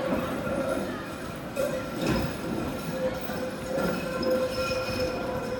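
A tram rumbles past nearby on a city street in Sofia, Bulgaria, with rhythmic clacking of wheels over track joints and a faint metallic squeal, under a continuous low roar.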